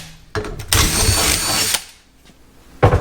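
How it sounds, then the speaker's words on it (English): A power drill drilling holes in a Chevy Nova whirs loudly in a sustained burst after a couple of short starts, then stops and briefly restarts at the end. "So that's something that you have to drill out"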